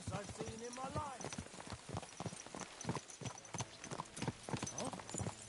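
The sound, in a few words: horse hooves clip-clopping in the video game Kingdom Come Deliverance 2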